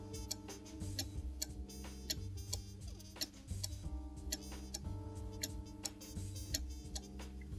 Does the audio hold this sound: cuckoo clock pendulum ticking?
yes